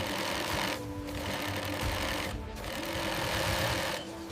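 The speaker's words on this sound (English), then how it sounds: "Sleeves are sewn onto the jacket for full articulation." Industrial sewing machine stitching sleeves onto a firefighter jacket in a uniform factory, a steady loud mechanical whir running throughout with brief pauses and restarts.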